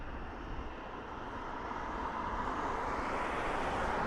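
Airliner at Dublin Airport, a steady broad jet roar that swells gradually louder over a few seconds, distant to mid-range and heard alone.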